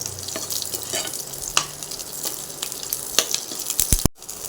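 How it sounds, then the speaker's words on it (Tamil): Garlic and onion sautéing in hot oil for a kolli kuzhambu give a steady close sizzle, with intermittent stirring scrapes and a brief clatter near the end. "பூண்டை போட்டுக்கலாம் அது கூட வெங்காயம் இதை வந்து நல்லா வதக்கி விட்டுக்கலாம்"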